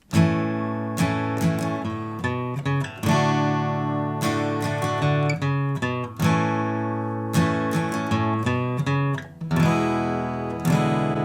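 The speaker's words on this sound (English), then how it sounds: "I add a couple more strums in between these chords and the walk-ups and" An acoustic guitar strums chords with quick down-up patterns, punctuated by single-note walk-ups between changes; close and clear, no talking.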